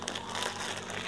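A plastic bag holding shelled peanuts crinkles steadily as the nuts are pounded to crack them, a close, soft rustling with no talking.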